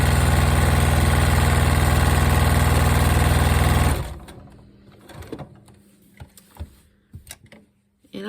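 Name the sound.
sewing machine stitching a quilt block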